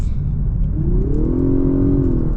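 A 2025 Lexus LS 500h Sports Luxury hybrid with its naturally aspirated V6 accelerating, a loud close engine rumble joined partway through by a rising whirring drone that climbs and then holds steady, no talk.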